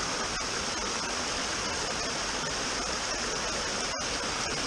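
A creek stretch runs with a steady broadband rush of flowing water, close and continuous like a small stream or cascade, with no voices over it.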